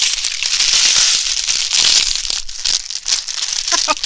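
Crinkling packaging as a spiritual goodies box holding a tarot cloth is opened, a loud, steady close-up rustle and crackle of crumpling plastic running throughout.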